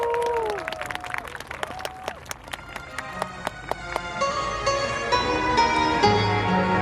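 An audience at an outdoor Han River busking performance breaks into scattered, sharp handclaps mixed with singing and music. The claps are moderately loud and irregular.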